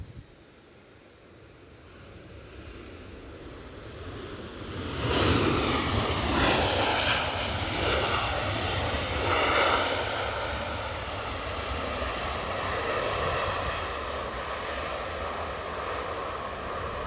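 An airliner landing at Edinburgh Airport, its jet engines swelling from a steady distant rumble into a loud, close roar with shifting whine, then holding a broad sustained noise over wind.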